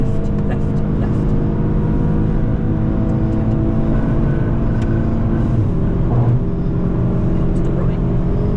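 A car accelerates hard around the Nürburgring while chasing a Porsche, its engine droning steadily and loudly throughout with a sustained, layered roar close to the listener.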